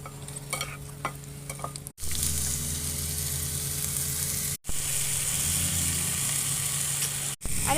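Onion, chili and garlic frying in hot oil for an aloo bhaji, a loud, close, continuous sizzle broken by two brief pauses, with stirring scrapes and no talk.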